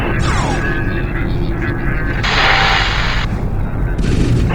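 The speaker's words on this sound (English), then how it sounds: "Prepare for immediate surface bombardment." Orbital surface bombardment in the space strategy game Homeworld, with booming impacts and dense artillery-like blasts rolling continuously under game sound effects, loud and close.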